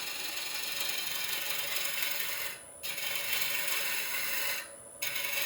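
A wood lathe turns a rough cherry log bowl at about 700 RPM, a steady broad whirring roar with two brief dips where the cutting noise drops out, close and continuous with no talking.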